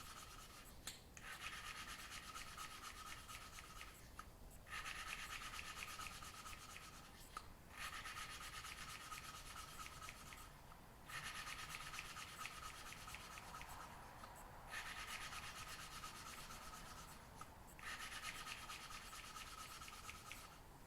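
A valve from a 1948 Farmall Cub engine is hand-lapped against its seat with abrasive compound, a steady gritty rubbing broken by short regular pauses as the tool is lifted, close and fairly quiet.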